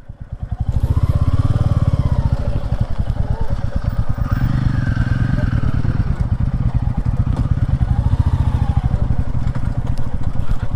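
A motorcycle idles with a steady, close, throbbing engine putter while rolling in neutral on a magnetic hill at Mainpat, Chhattisgarh, with faint background sounds and no clear talk.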